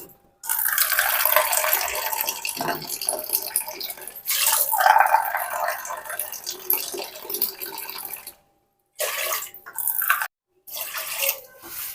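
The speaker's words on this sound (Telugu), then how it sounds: "దానికి 4 కప్పులు వాటర్ అయితే పోసుకోవాలి" Water pours in a steady gushing stream for several seconds, breaks off briefly, then returns in a few short splashy bursts, as four cups are added to rice and ragi flour.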